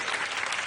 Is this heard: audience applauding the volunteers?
yes